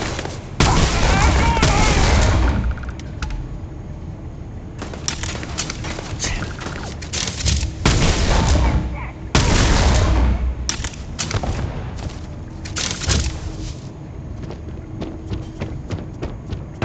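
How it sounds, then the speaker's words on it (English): Gunfire in the Starfield video game comes in loud, dense bursts separated by quieter gaps, with sharp repeated shots and booming impacts across the whole stretch. "Opening fire."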